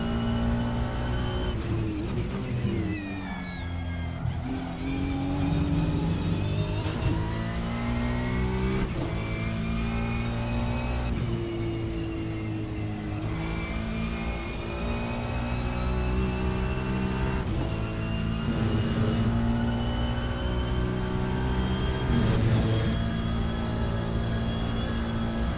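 A Ferrari 296 GT3 race car in an online GT3 racing game at Road America, its engine droning continuously and loudly, rising and falling through gear shifts with steady revving pitch sweeps, heard alone without talk.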